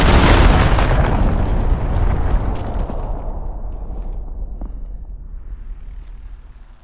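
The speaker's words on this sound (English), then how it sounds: "Allied cruise missile on the way." Cruise missile strike in Call of Duty: Modern Warfare, a heavy booming explosion with a loud initial blast that rolls into a long, fading rumble over several seconds.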